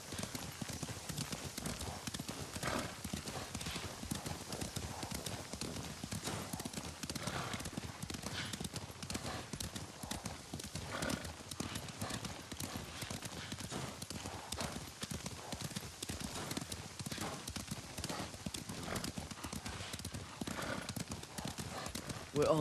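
Steady clip-clopping of horse hooves in Ghost of Tsushima runs throughout alongside dense game sound and voices talking, the hoofbeats continuous at a walking pace.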